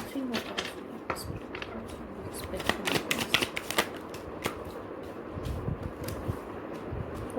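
Tarot cards being shuffled and drawn, quick crisp riffling and flicking bursts close by at a soft level, with faint cooing birds in the background.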